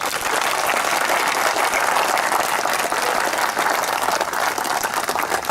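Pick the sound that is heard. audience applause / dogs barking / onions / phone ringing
audience applause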